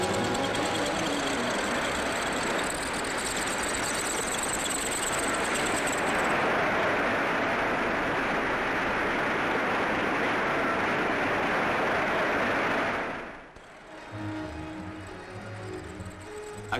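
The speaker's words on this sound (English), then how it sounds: "Masses of machine heads carrying gangs of tools advance and withdraw with the precision of guardsmen on parade." Machine tools run on a 1950s factory production line, a dense, loud, continuous mechanical drone with a whirring chatter that cuts off abruptly, leaving quieter machinery noise behind.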